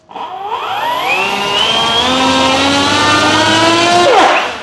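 Electric motor and propeller of an FMS T-28D Trojan 1.4 m RC plane on a throttle test: a loud, close whine that rises quickly in pitch, holds high and steady, then cuts off abruptly at the end.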